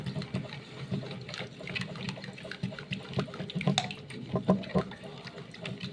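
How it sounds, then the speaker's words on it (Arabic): Liquid soap is poured and stirred into a homemade soap mixture made from used cooking oil, giving a continuous close sloshing and trickling with uneven swirls of stirring. "ايد بتصب وايد بتقلب"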